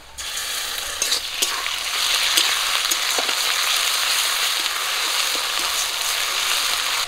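Ginger-garlic paste and dry red chili frying in hot oil with onion and green chili, a steady loud sizzle with occasional stirring scrapes throughout, no talking.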